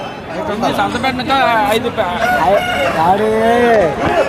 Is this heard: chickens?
yes